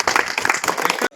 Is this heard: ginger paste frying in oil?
no